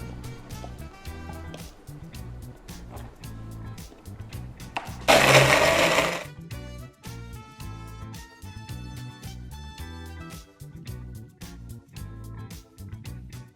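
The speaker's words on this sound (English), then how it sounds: "So 16 ounces full cup. And we are ready to blend." Blender crushing ice for a purple sweet potato frappe in a 16-ounce cup: a loud roaring burst of about a second, heard over steady background music.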